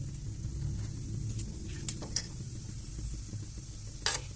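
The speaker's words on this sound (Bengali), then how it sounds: "আমরা জিরে ফোড়ন দিচ্ছি" Cumin seeds tempering in hot oil for a Bengali chana masala, a low steady sizzle and crackle running throughout with a few brief sharper pops and a spoon clink near the end.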